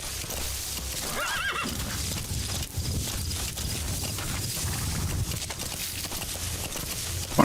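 Video game horse neighing with a loud whinny near the start, followed by steady clip-clopping hooves and movement throughout, up close.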